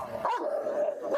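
Dogs bark from behind a locked gate, a sharp yelp followed by a drawn-out whining bark, fairly close but moderately quiet, with no talking over it.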